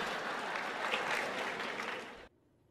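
Audience applause at a lecture, a dense, steady clapping from many hands that holds for about two seconds and then cuts off abruptly into near silence.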